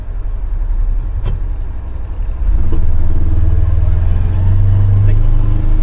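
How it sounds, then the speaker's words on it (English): A Polaris Ranger Northstar UTV pulls away from a stop, its engine rising in a steady low drone with a thin CVT belt whine layered on top. It stays close and continuous, with a couple of faint clicks over the noise. "There's a little whine in the transmission. The CVT belt when you take off."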